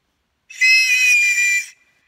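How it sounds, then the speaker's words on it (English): A single sustained high-pitched emergency signal whistle, loud and close, held steadily for just over a second before cutting off. "Whistle."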